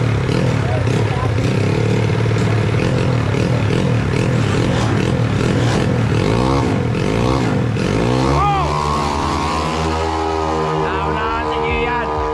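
Yamaha Mio motorcycles racing, their engines buzzing and revving loudly with sweeping pitch changes as they pass, under continuous excited commentary.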